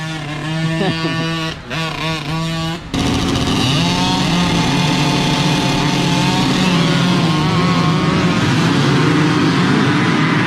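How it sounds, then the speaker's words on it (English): A 2004 Honda CR125 two-stroke motocross bike screams nearby with sharp revs and throttle blips, then holds a loud, continuous high-pitched wail as it rides off. "So he's riding followed by the 2004 CR125."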